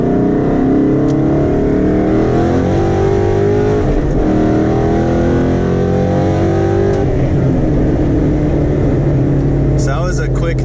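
Car engine revving high under acceleration through a gear change from second to third with a race-spec shifter, a loud, close engine note rising and dropping while a voice talks over it.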